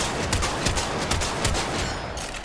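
Felarx shotgun in the video game Warframe firing a rapid, sustained string of loud blasts, each shot running into the next with no pauses and no talking.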